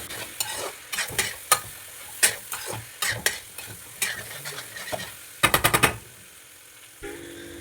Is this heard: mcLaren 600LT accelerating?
no